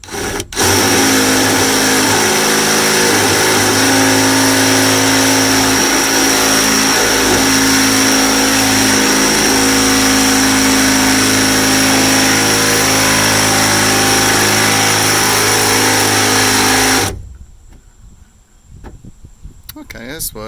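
A power drill with a 3/8 bit bores through thin sheet metal to free a bolt during a window motor replacement on a 1992-97 Ford F150 door, a loud, steady close-up whine lasting many seconds before stopping abruptly.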